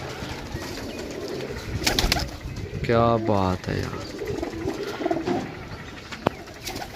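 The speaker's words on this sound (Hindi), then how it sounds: "चेक करो माशाअल्लाह जनाब जीरा कबूतर" Pigeons of the Zeera breed coo near someone talking, with a short rhythmic run of cooing in the middle over steady background noise.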